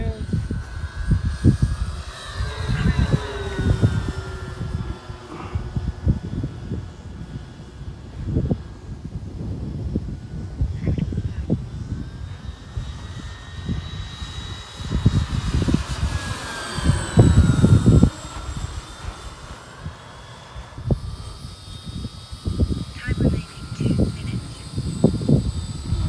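FlightLine 1700mm F7F Tigercat twin-engine RC warbird making a low gear-down pass in a tailwind, its electric motors whining in rising and falling tones as it flies by, with wind buffeting the microphone and a pilot talking over it.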